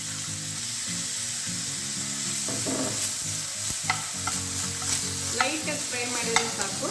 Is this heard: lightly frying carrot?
yes